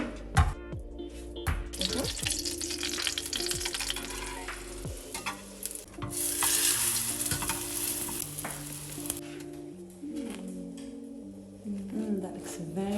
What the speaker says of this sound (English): We need to fry it in the pan